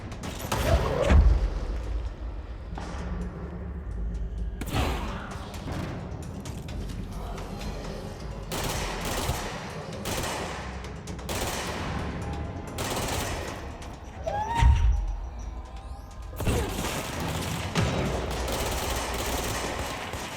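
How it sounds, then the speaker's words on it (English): Gunfire in a video game firefight with snipers, with sharp, loud shots recurring irregularly and booming impacts over a continuous noisy battle background. "those snipers, they do not let you move around a lot"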